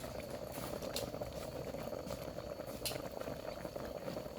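A pot of frogs and field crabs bubbles and churns at a steady boil nearby, a constant gurgling texture with a few sharper pops.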